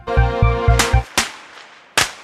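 Firecrackers bursting at an evening photo exhibition in Osaka in a film: a quick run of four sharp pops, then two more scattered bangs, fairly close and loud with musical tones underneath.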